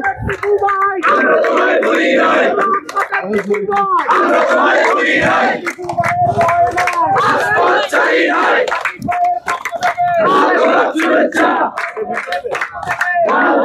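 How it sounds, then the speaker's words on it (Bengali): Party activists of the BNP crowded at an airport chant slogans in loud, rhythmic call-and-response bursts, a dense close crowd of voices rising and falling continuously with scattered shouts. "এখানে কিন্তু বিভিন্ন নেতা কর্মীরা এসে তারা কিন্তু স্লোগান দিচ্ছেন তার অপেক্ষা করার জন্য"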